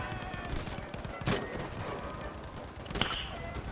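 Grenade launcher explosions and gunfire in a video game, heard as a dense rumbling mix of shots with two sharper blasts standing out, moderately loud.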